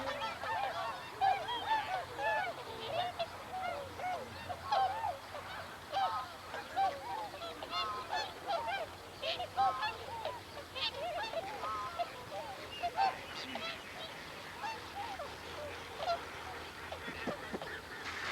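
Whooper swans calling in flight over ice, a loud flock giving repeated bugling honks that overlap and pulse in uneven bursts, continuous and fairly close, with many birds crying at once.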